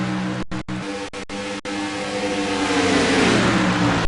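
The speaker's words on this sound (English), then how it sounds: "As I'm trying to hear the cars clutching into corner number 1" FAST Sport Stock race cars circle at Las Vegas, their engines roaring loud and steady, with revs rising and changing pitch as the pack passes.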